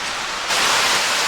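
Scouten Brook Falls rushing in the distance, a steady broadband wash of falling water that swells louder partway through and then holds constant, with no voices.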